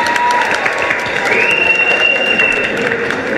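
A crowd applauds and cheers a final performer taking the stage at a singing contest gala, with sustained clapping, a whistle cutting through, and a few voices in the mix.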